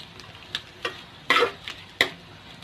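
Dry fruits such as cashews are stirred in a pan over low heat while frying to light brown for Eid sheer khurma: a few distinct scraping stir strokes with faint sizzle between, close and fairly quiet, no talk.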